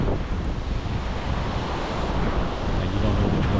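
Ocean surf off Jupiter rolls and washes in a steady, loud roar, with wind buffeting the microphone of a kitesurfer riding the waves.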